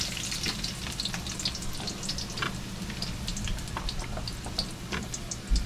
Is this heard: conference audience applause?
no